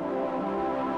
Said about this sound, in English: including a sound like this pad right here from Operator.